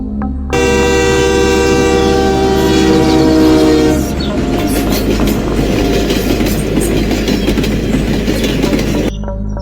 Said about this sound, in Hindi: तभी दूर से ट्रेन के हॉर्न की आवाज सुनाई देती है।